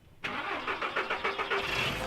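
A car engine with a Flowmaster muffler cranks and catches, then settles into a rhythmic, throaty idle with regular pulsing, close and fairly loud.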